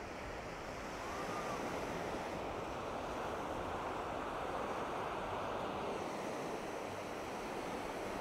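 Ocean waves wash onto the sandy beach of Ao Kiu Na Nok on Koh Samet island, a continuous roaring surf that swells slightly after the first second, with some wind buffeting the microphone and no voices.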